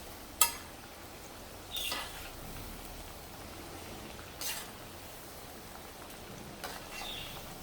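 Wheat flour kapanya deep-frying in oil make a faint, steady hiss, broken by a few brief louder crackles and scrapes, with no voices.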